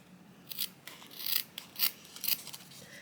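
Scissors snip carefully through a felt shape, giving a series of light, crisp cuts in an uneven rhythm, close up and quiet, with no talking.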